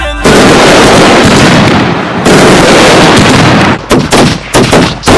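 Diwali firecrackers, hydro bombs and nagin crackers, burst in a loud, continuous crackling barrage that drops out briefly, then breaks into separate sharp bangs toward the end.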